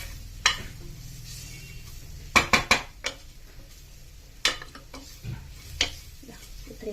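Coriander powder is stirred in a pan for chicken curry, heard as scattered close clinks and scrapes of a metal spoon against the pan, a quick cluster in the middle, over a faint low background.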